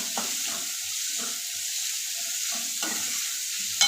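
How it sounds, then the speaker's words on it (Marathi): Onion with chopped coriander frying in a pan until reddish for a black chickpea masala, a constant hissing sizzle with soft scraping stirs from a spatula, moderate and close. "कांदा टाकून कांदा चांगला लालसर होतपर्यंत चांगला परतून घ्यायचा"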